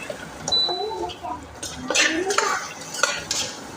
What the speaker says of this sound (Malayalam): ഏകദേശം നമ്മുടെ വെണ്ടയ്ക്ക ഇവിടെ നന്നായിട്ട് വഴറ്റി വന്നിട്ടുണ്ട്.